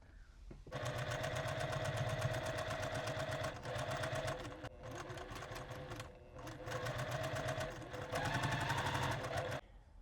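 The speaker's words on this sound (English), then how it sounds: "you're gonna sew from the inside out, like you're making another beak" A sewing machine stitches fabric for a star quilt block with flying geese units, running in loud, rapid close bursts of needle clatter separated by brief pauses.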